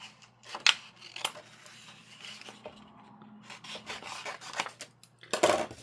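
Several short, crisp snips and rubbing scrapes of scissors cutting paper, close by and quiet, spaced irregularly with pauses between.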